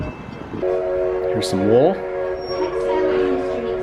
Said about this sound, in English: You can hear that train again.